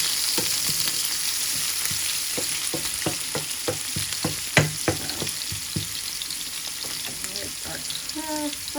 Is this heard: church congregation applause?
no